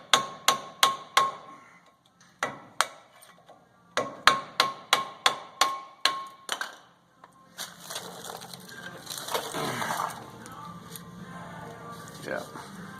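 Hammer strikes knocking out rusted front axle joints on a 2010 Ford F250 4x4: rapid bursts of sharp metallic blows in quick rhythmic runs, followed by scraping and grinding clatter, close and loud.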